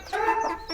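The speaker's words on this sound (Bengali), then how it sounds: "এই যে আমাদের দেশি মুরগিগুলো, এটা মাশাআল্লাহ বড় হয়ে গেছে।" Native village chickens cluck up close, a short run of quick throaty clucks and a rising call in under a second, with no voices.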